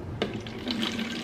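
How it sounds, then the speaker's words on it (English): Water poured from one container into a watering can during houseplant care, with a brief knock at the start followed by a short, close gurgling fill. "So I'm just gonna transfer this in"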